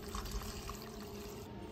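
Water pours steadily into a pot of beef being prepared for birria tacos, a continuous close splashing and trickling stream with no talk over it.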